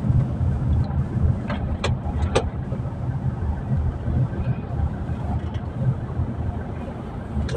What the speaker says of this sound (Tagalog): Traffic ang Terminal 3.